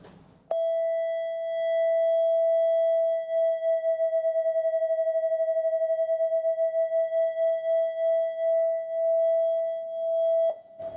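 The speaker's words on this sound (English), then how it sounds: "as the two frequencies get closer and further apart, you get a kind of beat noise, a kind of throbbing" A steady pure electronic guitar-tuning tone sounds alone for about ten seconds, throbbing with a regular wobble that speeds up and slows down as two pitches drift closer and further apart.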